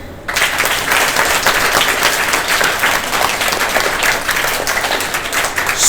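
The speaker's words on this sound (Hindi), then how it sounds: "ताली हो जाए।" Audience at Sat Gur school in Ludhiana breaks into loud, sustained applause, dense clapping filling the whole stretch at close range, with no speech over it.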